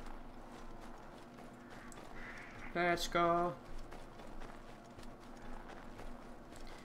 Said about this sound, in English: Oh, a horse!